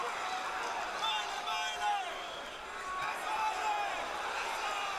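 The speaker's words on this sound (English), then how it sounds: "Crowd is very excited here" Excited arena crowd at a professional boxing fight in Atlantic City, a continuous roar of cheering and shouting that swells and dips over several seconds, with a commentator talking over it.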